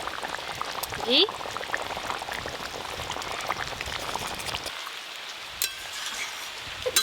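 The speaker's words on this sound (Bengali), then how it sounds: "আলু আর এদিকে ফুলকপি সব কিছু ভালো করে সেদ্ধ হয়ে গেছে" A pot of potato and cauliflower curry bubbles and simmers on the stove with a steady wet crackle while someone talks over it.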